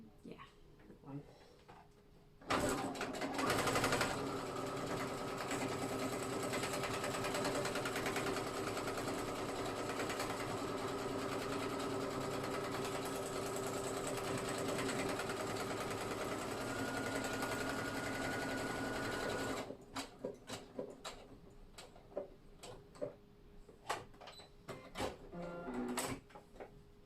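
A sewing machine stitches a buttonhole on jeans, running steadily and loudly for about seventeen seconds, followed by quieter clicks and handling sounds.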